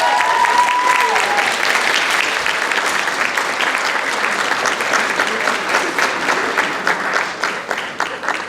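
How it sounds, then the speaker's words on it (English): Sustained applause from an awards-night audience for an award recipient, loud and dense at first and thinning slightly into scattered claps toward the end. "Let's give a big round of applause to our outstanding award-deserved recipient, Marianne Welbeck."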